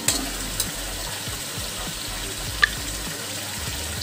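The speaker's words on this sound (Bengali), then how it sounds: "দেখুন কষানো হচ্ছে, এর উপরে আমি এবার আদা রসুনের পেস্টটা দিয়ে দেবো" Ginger garlic paste is sautéed with chicken for dahi chicken, a steady soft hiss of frying running throughout with a couple of faint utensil taps, no voices.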